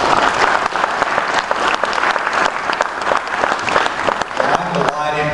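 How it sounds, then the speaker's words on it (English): A crowd at a town hall meeting with the Arkansas Governor breaks into loud, sustained applause with crisp individual claps throughout, and a voice begins speaking over it near the end. "Give yourself a round of applause, please."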